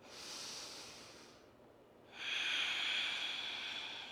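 Breathing during a seated yoga twist, a long audible exhale through the nose, a short quiet gap, then a stronger airy inhale or exhale, close and alone.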